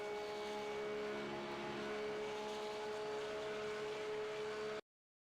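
A Porsche 992 GT3 Cup race car lapping the Daytona road course in the video game iRacing, its engine droning loud and steady at high revs with a strong sustained tone, then cutting off abruptly near the end.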